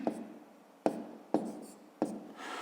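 A pen writes numbers by hand on paper during a fifth-grade maths exercise. Four distinct taps and scratches come at uneven intervals, close and quiet, with no voice.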